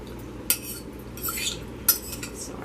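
Pickle relish drained and rinsed through fresh cheesecloth in the kitchen, giving two sharp clinks of utensils against a bowl with soft wet rustling and stirring between them, fairly quiet and close.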